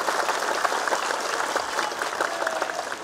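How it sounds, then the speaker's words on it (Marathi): An audience at a political speech by Gopichand Padalkar claps in dense, sustained applause that fills the whole stretch at an even, loud level. "ज्यांना दोन्ही हात आहेत त्यांनी टाळ्या वाजवायला काहीच हरकत नाही"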